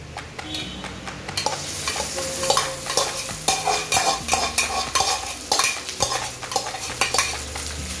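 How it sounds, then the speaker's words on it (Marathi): Rice tossed and stirred in hot oil for masala rice, with a steady sizzle of frying under repeated scraping strokes of a spoon against the pan. "तेल गरम झालेले आहे। आता त्यामध्ये आपण टाकणार आहोत पहिला राईस।"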